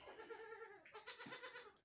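A goat gives two wavering bleats in a farm shed during a difficult kidding, the first drawn out and the second louder and shakier, close by with no talk.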